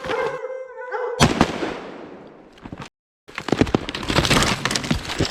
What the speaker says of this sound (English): two shots in the head, he's down.